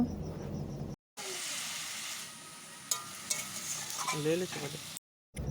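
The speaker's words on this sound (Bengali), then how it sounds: "জল দেওয়ার পর ভালোভাবে নাড়াচাড়া করে নেব।" Vegetables of potato and stalks (kumro saak) are stirred in a pan after water and chilli powder are added, giving a continuous wet sizzle with scraping spoon strokes, broken by two short silent gaps.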